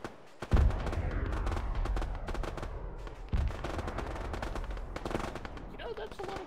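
Rapid bursts of automatic machine-gun fire in a video game crackle continuously, with a few louder volleys standing out, over faint background talk.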